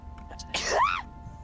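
A single sharp sneeze bursts out, close and fairly loud, followed by a brief rising vocal tail, with quiet background hum.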